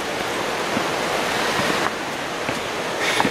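A waterfall heard from a hiking trail partway up a hill, a steady broadband rushing roar with no one talking.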